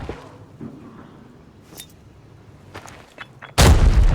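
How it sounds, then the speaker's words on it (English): A grenade blast in the video game Arena Breakout bursts out loud and broadband near the end, following a few quieter clicks and thuds of gunfire and movement. "That's when I took my nade and I was like, okay, let's just bomb him up."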